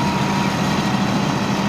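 A combine harvester engine idles steadily, a continuous low rumble with an even drone and no talk over it.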